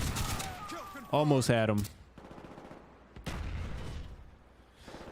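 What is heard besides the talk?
shotgun fire in Call of Duty video game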